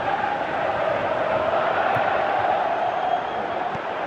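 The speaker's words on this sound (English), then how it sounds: "Crowd calling for him to shoot" A football stadium crowd roars at a CSKA, Besiktas, Fenerbahce, Brugge, Fiorentina or Barcelona match, urging a player to shoot. The dense, loud, steady wall of voices rises into cheering and whooping.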